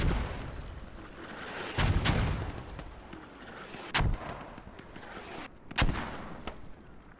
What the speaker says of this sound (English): these mortars are getting super close